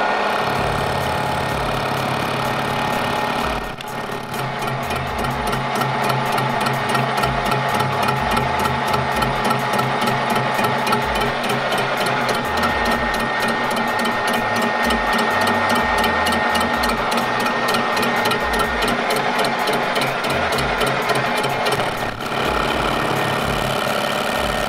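A machine cuts crankcases for an 873 cc four-cylinder two-stroke engine, running with a steady, loud mechanical whir and a rapid rhythmic chatter that holds throughout, with a brief dip in level partway through.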